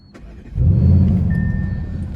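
A 2021 Audi RS6 Avant engine starts up with a quick crank, then a loud, steady idle rumble that settles slightly, heard close with no talking.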